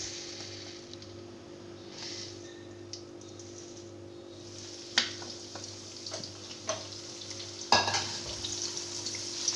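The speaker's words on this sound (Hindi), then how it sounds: "अब मैं मसूर की दाल को रोस्ट करने लगी।" Red lentils (masoor dal) dry-roast in a pan, giving faint, scattered rustling and light scraping with a few sharper clicks as the grains are stirred, over a low steady hum.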